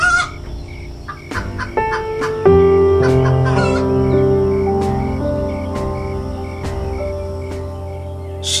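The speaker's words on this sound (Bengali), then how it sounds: "একদিন রাতে মুরগির আওয়াজে বুড়োর ঘুম ভেঙে গেল।" Cartoon chickens cluck and a rooster crows in a Bangla fox cartoon, a loud, steady run of fowl calls with bird and insect-like tones layered over a continuous background.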